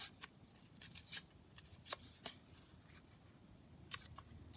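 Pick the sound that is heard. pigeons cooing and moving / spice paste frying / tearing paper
tearing paper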